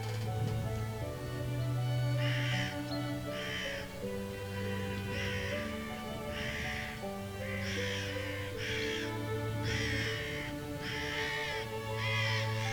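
A carrion crow near an oak, attacked and gripped by a kestrel, gives a long series of harsh, evenly spaced caws over a steady background of tonal sound.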